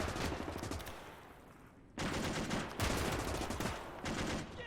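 Machine-gun fire rattles in a World War II video game mod, with sustained dense bursts, a brief lull near the middle and then heavy continuous firing again, loud and close with no talk.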